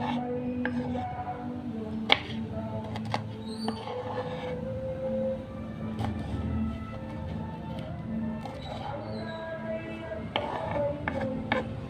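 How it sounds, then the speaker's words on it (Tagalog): A knife chopping chili peppers in a home kitchen, irregular sharp taps on a board amid clinks of pots and utensils, moderately close with no talk. "tapos na ating hiwa ng sili"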